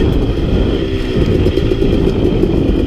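A KTM 250XC dirt bike engine drones loudly and steadily while being ridden off-road on a steep trail, with a continuous rumble and no talking.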